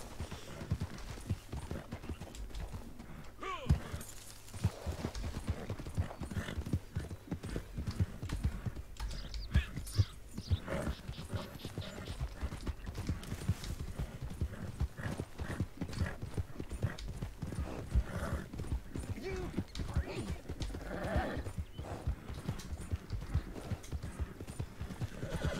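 Horse hooves clip-clop steadily while riding in the Red Dead Redemption Online video game, a continuous rhythmic trot with occasional whinnies and neighs, loud and close throughout.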